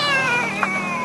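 A boy imitates a cat with a short, high, wavering meow-like cry, brief and close.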